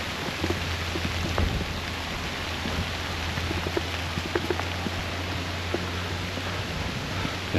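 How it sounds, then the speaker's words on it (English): Rain falls steadily on a mountain trail in the Smoky Mountains, a soft, even hiss dotted with scattered close drops and faint rustles, with no voices. "But even though it's raining, the weather sucks."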